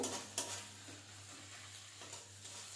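Ginger and garlic paste frying with onions sizzles quietly in a pan, with a few light scraping clicks as it is stirred and no voices.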